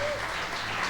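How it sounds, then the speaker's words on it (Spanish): A brief burst of audience applause at a Sunday church service, a short wash of clapping from the congregation at moderate volume. "Dámosle un fuerte aplauso también a José."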